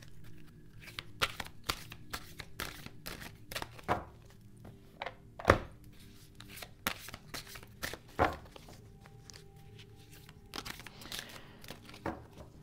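Tarot cards are shuffled by hand during a reading, producing a run of quick, close riffling and soft slapping bursts in an irregular rhythm, a few louder snaps standing out against a quiet room.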